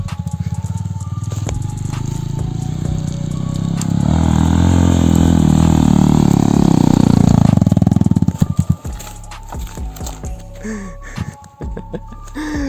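A Romet K125 motorcycle engine revs up and holds a loud, roaring drone for several seconds, then drops back to a rough idle with short throttle blips.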